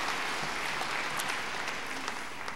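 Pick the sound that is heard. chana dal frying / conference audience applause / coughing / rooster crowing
conference audience applause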